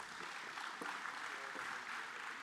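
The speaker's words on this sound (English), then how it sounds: "Give them a round of applause." Audience applause for the panelists at a water and sanitation conference, a moderate wash of clapping that runs throughout and sits beneath a faint voice.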